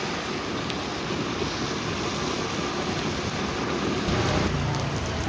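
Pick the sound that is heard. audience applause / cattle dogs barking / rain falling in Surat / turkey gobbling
rain falling in Surat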